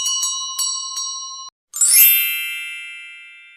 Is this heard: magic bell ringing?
yes